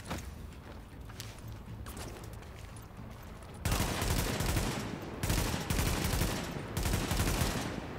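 Gunfire in The Division inside the Lincoln Tunnel, with scattered lighter shots first, then heavy bursts of automatic fire in loud, close clusters that pause briefly and resume.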